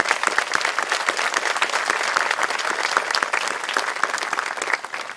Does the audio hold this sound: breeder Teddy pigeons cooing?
no